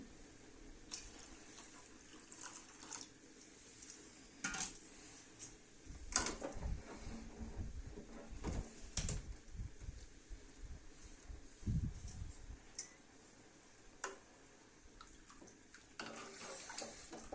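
Heated water is poured into a pot of cooking mutton in a few quiet splashy bursts, with small clinks and knocks around it in an otherwise hushed room.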